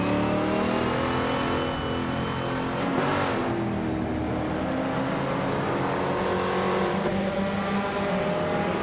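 A small, lightweight 1968 Hyundai 800 RSC sports car with a tiny Italian engine in a racing video game, revving steadily and loudly in a continuous high-pitched drone with a brief shift in pitch partway through.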